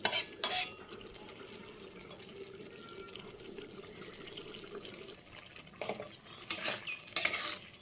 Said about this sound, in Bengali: ভালো করে পুরো নাড়াচাড়া করে নেওয়া, পুরো টমেটোর চাটনিটা মাখা মাখা হয়ে গেছে